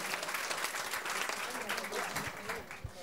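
An audience at a Harry Potter comedy show breaks into applause, a steady wash of many hands clapping at moderate distance for the whole stretch.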